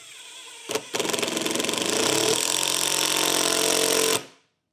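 Makita 18V LXT XDT12T cordless impact driver in auto mode, driving a long screw: a short burst, a brief pause, then about three seconds of loud, rapid hammering impacts that stop abruptly, close and alone.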